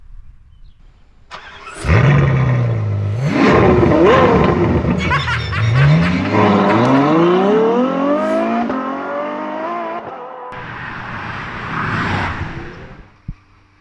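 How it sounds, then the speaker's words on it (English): A Maserati Levante Trofeo SUV starts up and revs hard on a track, its engine climbing in repeated sweeping pitch rises before settling, loud and close, ending with a sharp click. "We're getting a sneak preview of the Levante GTS and Trofeo, and it's going to be on the track."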